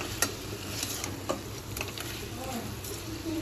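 Spices frying in oil for a chicken gravy, a faint steady sizzle with occasional soft stirring clicks and light taps, quiet and continuous.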